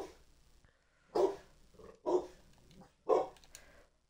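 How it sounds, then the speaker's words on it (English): Dogs bark in the room, three separate loud woofs spaced about a second apart over a quiet background, with a low hum and faint game sounds underneath. "my dogs are barking for no reason"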